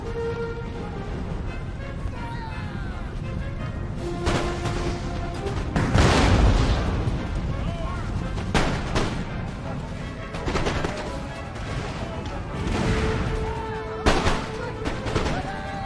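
Rifle volleys and artillery booms in a Napoleonic-era Empire: Total War battle between British and Prussian forces, with repeated loud bursts of musketry and heavier blasts rolling together into a steady, crackling din for the whole stretch.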